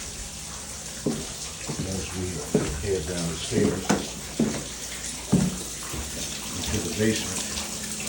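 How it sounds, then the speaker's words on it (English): Water runs inside a house from frozen, burst pipes, a continuous splashing and hissing flow heard while someone talks over it heading down the basement stairs. "we can hear the water running"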